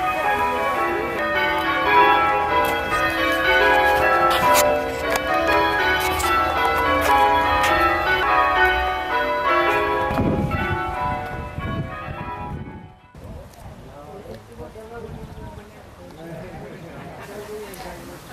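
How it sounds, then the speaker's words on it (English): Church bells ring out in a dense, clanging peal for about twelve seconds, then stop abruptly, leaving quieter outdoor ambience and faint voices. "it does suffer from excessive church bells at times"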